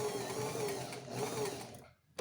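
A sewing machine stitches a short backstitch, running a few seconds in a close, fairly quiet whir with a slight change in pitch as the seam reverses, then cutting off.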